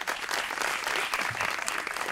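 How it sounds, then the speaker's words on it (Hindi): Studio audience on a Pakistani TV talk show bursts into dense, sustained applause, a loud, even wash of many hands clapping together with no break. "आप लोगों की भरपूर तालियों में एक दफा फिर जुगन काजिम।"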